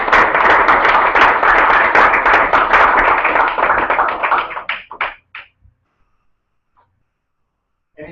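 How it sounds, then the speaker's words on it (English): A comedy club audience claps in dense, loud, sustained applause to welcome a joke master to the stage, fading out after about five seconds into a few scattered last claps and near silence. "So with a round of applause, please welcome John Thompson."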